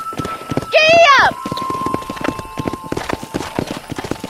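Hooves clip-clop at a steady running pace in Red Dead Redemption as a horse gallops, with a short burst of a horse's whinny near the start and speech passing over the rhythmic footfalls.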